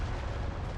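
A loud, dense explosion from the video game Tales of the Abyss roars as a continuous broadband rumble, close and filling the whole moment.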